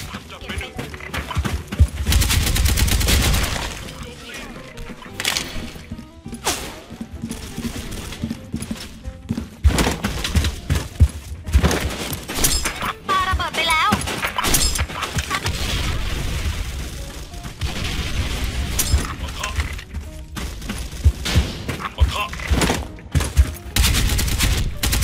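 Galil rifle gunfire in the online shooter Special Force 2, busy rapid bursts and shots running throughout amid other game noise, with a voice talking over parts of it.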